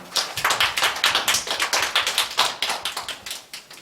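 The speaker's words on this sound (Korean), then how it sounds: "우리에게 은혜 주신 하나님께 영광의 박수 올려드리겠습니다." A church congregation at Sunday worship claps in a brisk, regular rhythm, sharp rapid hand claps repeating evenly throughout, close and fairly loud with no voices.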